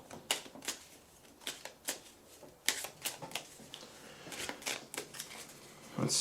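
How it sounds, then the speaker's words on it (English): Soft, quick riffling and tapping of oracle cards being shuffled, in irregular bursts, close up and fairly quiet with no talking. "We're going to shuffle first."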